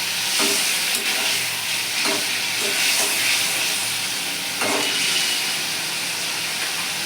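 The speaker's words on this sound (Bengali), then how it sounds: "এবার আমি ওই মশলার মধ্যে বেগুনটা ছেড়ে দিচ্ছি বেগুনটাকে মশলার সঙ্গে একটু নেড়ে চেড়ে জল দিয়ে দেবো" Eggplant frying in hot spice masala for a thin Bengali pomfret curry, a loud steady sizzle and hiss with a few soft scraping stirs, close up and without talking.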